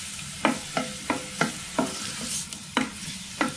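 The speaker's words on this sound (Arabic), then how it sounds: "اول حاجه غنبدا بها هي البصله، غادي نشحرها مزيان حتى تبدا كتبان" Onion sautéing in a pan, a close steady sizzle broken by seven or eight sharp scraping strokes of a utensil stirring at a brisk, fairly even rhythm.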